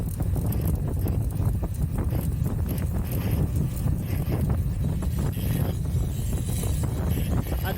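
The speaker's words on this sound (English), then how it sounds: "Got a nice steady wind blowing against me" Steady wind roars and buffets against a cyclist riding a 20-inch BMX bike up Queens Boulevard, a continuous low rumble that fills the whole stretch with no talking.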